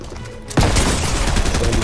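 Rapid gunfire in the Fortnite video game bursts out after a short quiet lead-in, a loud, dense volley of repeater rifle shots with echoing reports that keeps going without a break to the end.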